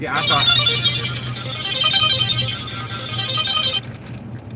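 A phone ringtone from an incoming call chimes repeatedly inside a car during a food delivery drive, loud and close, then cuts off abruptly, while people talk over it.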